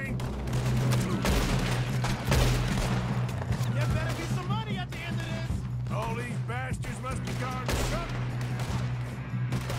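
Rapid gunfire in a multiplayer shooter video game: continuous bursts of shots and booms over a dense, busy game soundscape, with a player talking throughout.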